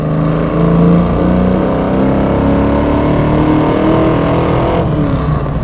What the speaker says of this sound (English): Little third gear pull there.